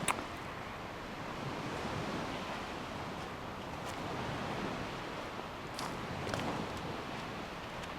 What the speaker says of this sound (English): always nice to hear the surf.